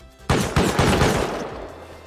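An automated turret in the video game Rust fires a loud, close burst of rapid gunfire, several sharp shots rattling in quick succession before trailing off.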